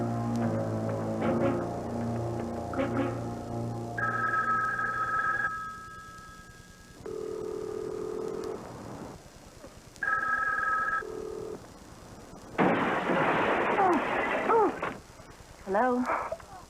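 A telephone rings in a 1990 Comic Relief comedy sketch, sounding in repeated bell bursts separated by gaps, mixed with other tones and clatter, with voices talking around the rings.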